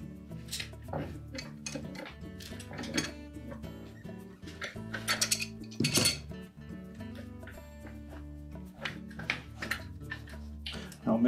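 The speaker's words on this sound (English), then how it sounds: "We'll start with a pair of pliers and we're just going to loosen that nut." Metal clinks and scrapes of pliers gripping and turning a nut on the ice dispenser drum of a Frigidaire refrigerator, close and irregular, with sharp taps scattered through the whole stretch.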